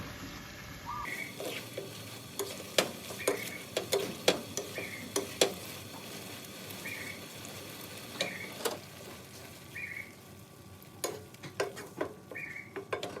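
Spaghetti with green curry sauce and shrimp stir-fries in a pan, a soft, constant sizzle broken by irregular sharp taps and scrapes of a utensil against the pan.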